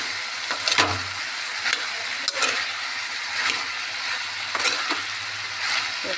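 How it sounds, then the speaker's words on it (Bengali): Potatoes for aloo chorchori frying in a pan make a continuous close sizzle broken by a few sharp stirring scrapes, with no speech. "আলুগুলো একদম ভাজা ভাজা হয়ে গেছে।"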